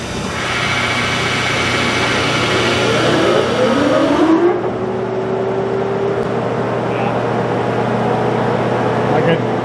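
A big shop lathe with a steel chuck spins up, its motor whine sweeping upward in pitch over a steady electrical hum before settling into a loud sustained drone; voices talk underneath.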